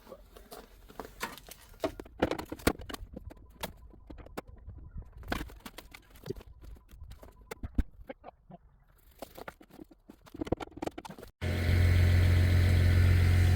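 A ute's engine idles steadily and loudly close by, starting abruptly after a stretch of quieter outdoor tapping and bird sounds.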